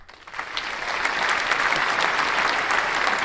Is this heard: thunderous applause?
yes